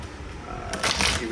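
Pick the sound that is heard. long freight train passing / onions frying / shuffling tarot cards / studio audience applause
shuffling tarot cards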